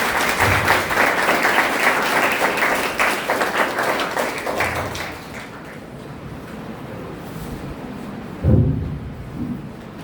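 Audience applause at a college lecture event on India's glorious history, loud, dense clapping for several seconds that fades toward the middle, followed by a few scattered claps and a brief burst near the end.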